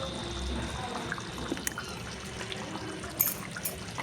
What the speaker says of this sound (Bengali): আর একটু দিয়ে দিচ্ছি ওপর থেকে সরষের তেল।